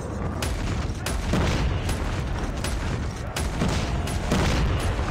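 The KRM-262 shotgun fired repeatedly at zombies in Call of Duty Mobile, sharp blasts at a steady pace of roughly one per second over dense game noise, loud and close.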